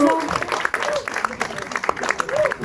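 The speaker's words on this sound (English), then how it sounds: "One more round of applause for all the organizers who made this party happen" Audience applause at a party, a burst of scattered clapping from the crowd while a host speaks over it on a microphone.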